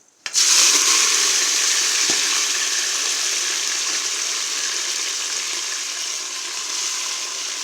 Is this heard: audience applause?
no